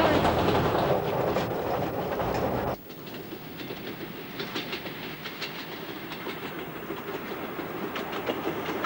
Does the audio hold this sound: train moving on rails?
yes